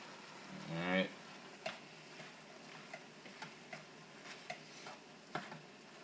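A simmering ground meat dish is stirred in a pot, producing a faint bubbling bed with a series of light, evenly spaced spoon taps and clicks. A brief voice is heard at the very start.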